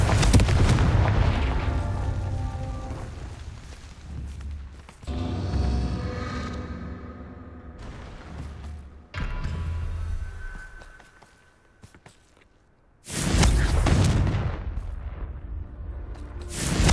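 Confringo blasting spells going off in Hogwarts Legacy, several loud booming explosions with rumbling tails, separated by quieter stretches and a near-silent gap before a final heavy blast.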